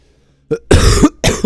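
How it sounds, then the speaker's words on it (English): A few close, harsh coughs in quick succession, loud and alone against silence. "Sorry for coughing."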